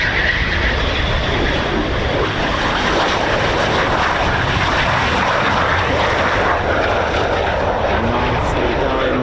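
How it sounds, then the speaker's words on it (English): Eurofighter Typhoon FGR4 jets circling an RAF station airfield circuit, a loud, steady broadband roar of jet engines filling the whole stretch without break, with a little talk mixed in. "These are our last Typhoons, I think, that you see in the circuit now."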